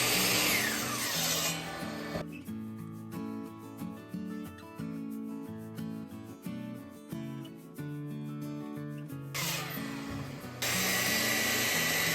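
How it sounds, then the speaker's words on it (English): A Japanese hand saw rasps through wood with a quick run of close, rhythmic strokes, each pull a dry scraping rub, framed by louder noisy passages at the start and end, without any voices. "to finish up these cuts, I elected to use a Japanese hand saw"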